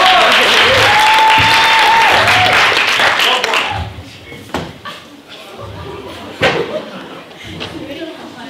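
An audience claps for a performer after his song at St George's Celebration of Song, dense applause filling the room for a few seconds before fading to scattered claps, with a voice singing or speaking over the start.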